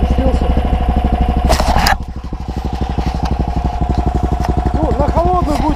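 A Promax SRX-700 snowmobile engine runs just after starting, a loud, close, rapid, even putter with a brief surge in revs before it settles into a steady idle.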